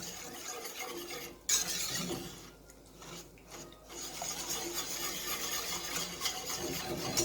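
Sugar being stirred in a pot over an open flame for wisteria jelly, a continuous scraping and rasping of a utensil against the pot with a brief sharp clink early on, close up with no voices.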